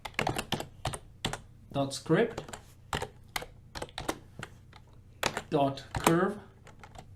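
Quick bursts of computer keyboard typing click along in short runs while someone speaks between and over them, entering code into a game editor script.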